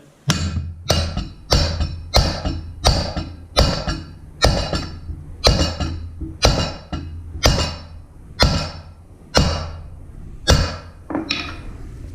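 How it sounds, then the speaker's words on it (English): About fifteen sharp hammer strikes on a metal install tool driving a bushing into a John Deere 750 drill opener, at a steady rhythm, close and loud, each blow ringing briefly before the next. "Hammer it in until it's flush with the outside."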